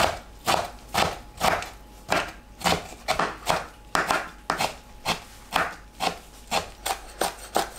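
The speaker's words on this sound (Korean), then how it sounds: "작게 썰어주세요." Aged, well-fermented kimchi being chopped into small pieces with a knife on a board: loud, close, steady rhythmic thuds, roughly two per second, with no talking.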